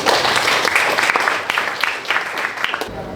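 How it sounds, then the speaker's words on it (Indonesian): Classroom of students clapping together, a loud, close burst of uneven hand claps that tapers off after about three seconds. "Silakan tepuk tangan."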